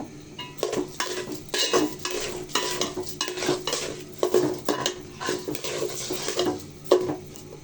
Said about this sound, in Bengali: এরপর দিয়ে দেবো চালগুলো দিয়ে নাড়াচাড়া দিয়ে ভেজে নিব